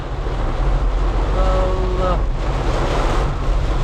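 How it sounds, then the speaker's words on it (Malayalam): Strong wind roars and buffets the microphone amid a wash of heavy rain in Kasaragod, Kerala, a loud, continuous rushing noise. "കാറ്റും മഴയുമാണ് ഗായ്സ്"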